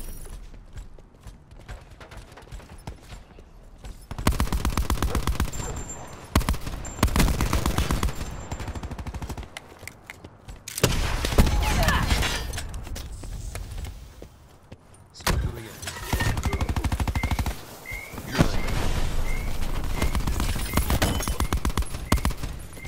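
Sustained bursts of automatic gunfire aimed at a robot, loud and close, arriving in several long rattling volleys separated by brief lulls of quieter mechanical noise.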